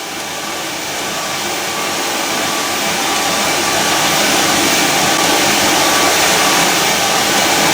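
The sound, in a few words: portable clothes dryer running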